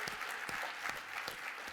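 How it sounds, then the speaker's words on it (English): Audience applause at a climate advocacy conference, a steady, moderately distant patter of many hands clapping with no talk over it. "So a huge round of applause on that."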